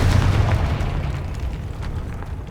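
In the Hogwarts Legacy video game, a Confringo fire spell bursts with a dense, rumbling explosion that starts strong and crackles down over a couple of seconds, with no voices.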